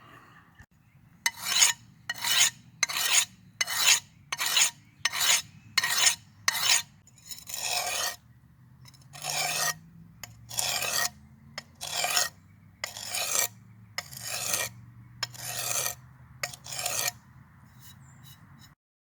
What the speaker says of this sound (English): I found this broken cinder block, but I might be able to sharpen it on that